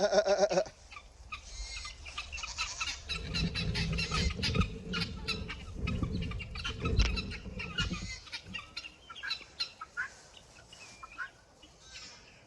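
Guinea fowls outside their coop call in a noisy, overlapping chorus of rapid harsh cackles and rattling cries, loud and fairly close, thinning to scattered calls toward the end.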